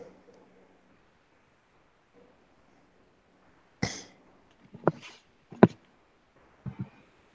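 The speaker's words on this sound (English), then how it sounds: "You'll still hear me cough" Several separate coughs, close and fairly loud, spaced over a few seconds, with near silence between them and no talk.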